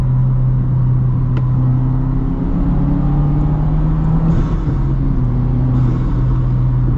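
A Subaru WRX Baja accelerates with a steady, loud engine drone that climbs in pitch, while brief faint hissy bursts suggest turbo venting; no one talks.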